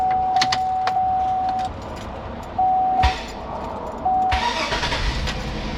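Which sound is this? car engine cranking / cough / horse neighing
car engine cranking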